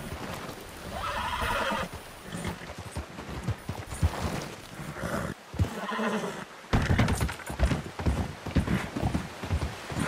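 Horse hooves in the video game Red Dead Online, a clear run of clip-clop hoofbeats with a neigh, fairly close, with some irregular thuds and brief gaps, no talk.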